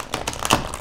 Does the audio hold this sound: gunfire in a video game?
no